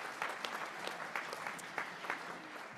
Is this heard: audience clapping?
yes